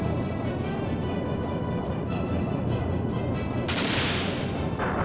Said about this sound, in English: fire the Moonstone Cannon straight through his engine.